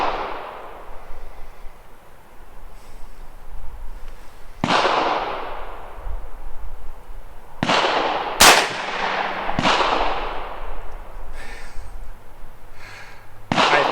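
Several sharp rifle shots from a PTR 601 9-CT fired at an outdoor range ring out at irregular intervals, each a loud crack with a decaying echo over steady background noise.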